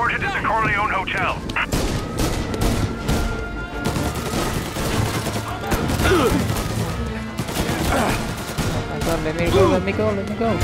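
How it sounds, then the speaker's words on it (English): Rapid bursts of gunfire crackle throughout alongside booming impacts at the Corleone Hotel in Mafia: Definitive Edition, with voices talking over the chaotic game combat. "Gunfire and an explosion reported at the Corleone Hotel."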